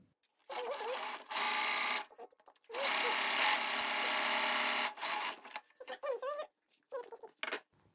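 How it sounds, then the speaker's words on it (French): Domestic sewing machine stitching a wide, fairly tight zigzag on a three-layer fabric face mask, close bursts of fast whirring in several runs of different lengths, with short gaps and a soft voice between them. "Je fais un zigzag assez large et un petit peu serré."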